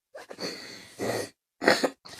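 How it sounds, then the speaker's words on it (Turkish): A person coughs in a few harsh, raspy bursts with short pauses between them, close to the listener, with no other sound around. "Korona değilim sadece öksürüyorum"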